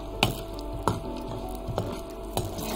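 Cashews sizzling in hot oil while tempering for Chettinad idli, a steady frying hiss with a few sharp clinks and stirs spaced across the clip, close and moderately loud with no talking.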